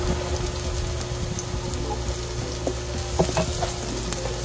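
Ginger and chicken fry in a pan with a steady, close sizzle and scattered pops and crackles running throughout, fairly loud and continuous.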